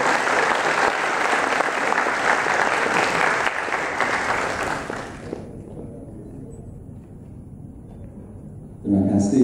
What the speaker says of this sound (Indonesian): Beri tepuk tangan yang meriah untuk Profesor Radli.